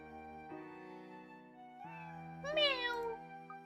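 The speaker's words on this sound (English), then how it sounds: "A finely groomed black cat, I must say." A black cat in a video game lets out a short meow, a rising and falling cry heard clearly over steady game background music.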